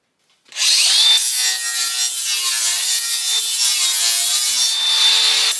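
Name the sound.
angle grinder with flap disc cleaning debris off welding table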